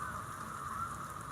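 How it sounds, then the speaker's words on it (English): Heavy rain pours at Kentucky Kingdom amusement park, making a steady, even hiss of water with no other sounds above it. "Is absolutely pouring."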